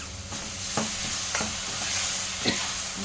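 Chicken sukka masala sautéing with onion in a pan, a loud continuous sizzle broken by a few distinct spatula scrapes and clacks, close by and without speech.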